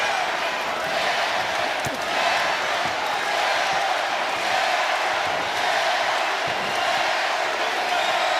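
Crowd in a boxing arena at a fight in Toledo, Ohio, roaring and cheering steadily, a dense loud wash of voices with no breaks across the whole stretch.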